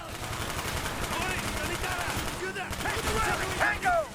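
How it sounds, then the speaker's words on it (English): An MP5K submachine gun fires in rapid bursts in a video game, a steady chatter of close shots with a couple of sharper blasts near the end. "I love me a good MP5K"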